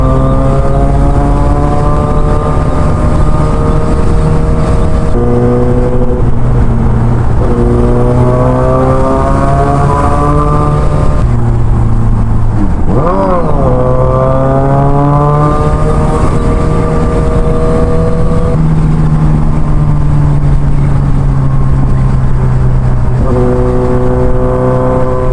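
A motorcycle rides along the NLEX expressway in the Philippines, its engine loud and close, pitch climbing through each gear and dropping at the shifts, running continuously with no talking.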